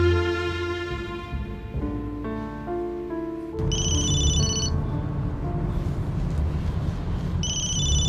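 A phone ringtone rings in a dubbed drama scene, with a melodic tune first and then a louder, brighter repeating ring over a busy background, close and unanswered.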